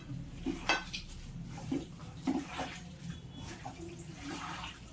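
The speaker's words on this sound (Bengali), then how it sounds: "এবার আমি মশলাটা মিক্স করে দেব।" Spice paste worked into chicken pieces for curry makes soft wet squelches and light clinks of a spoon against the pot, repeating unevenly at close range with no talking.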